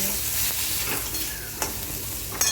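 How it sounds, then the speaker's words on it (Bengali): Cumin and Kashmiri chili powder masala hisses and crackles in hot oil while being stirred, with a few sharp scraping clicks from the spoon and no speech. "তারপরে এই মশলাটাকে ভালোভাবে কষিয়ে নিতে হবে"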